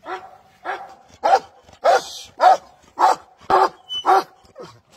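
A dog barks repeatedly in a steady series of about nine sharp, close barks, with short pauses between them.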